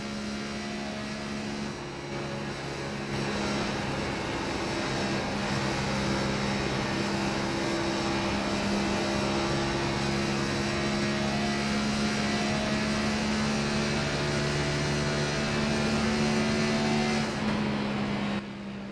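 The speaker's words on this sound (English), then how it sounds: "You heard him in 3 and 4, just slightly playing with the gas to keep the back end of the car secure." A race car engine in a racing video game, a FastTrack Cup Series race at Texas Motor Speedway, drones steadily and loudly throughout with slight throttle modulation and no talk.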